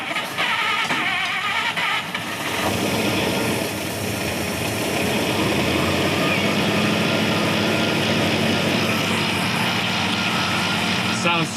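An old car engine, newly fitted with a two-barrel carburetor, starts and revs loudly and steadily close by, a sustained rough roar filling the whole stretch with brief voices at the start.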